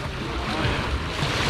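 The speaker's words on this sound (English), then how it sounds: "this is really rough, wavy water by Negril standards" Rough, choppy surf on Negril Seven Mile Beach in Jamaica, a steady close wash of waves with wind buffeting the microphone throughout.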